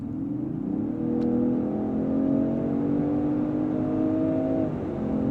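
A 2024 Range Rover Sport P400 pulls through the mid-range, its engine note climbing steadily in pitch with a brief dip as a gear changes, then drops back near the end; a steady, moderately loud cabin drone with no talking.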